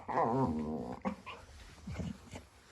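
A dog growls and snarls close by, a rumbling, wavering growl that breaks into short yips and whimpers.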